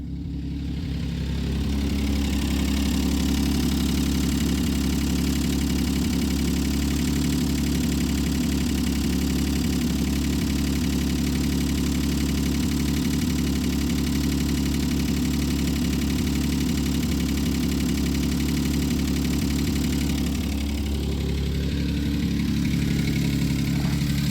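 A steady, rumbling 3.0 V6 engine of a 1995 Plymouth Voyager van idles roughly and continuously with a low, slightly uneven throb and faint knocking, close by, with no talking.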